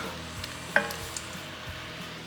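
Achocha cooks in a pan for a relish, a quiet, even sizzle with a few light clicks and taps from stirring.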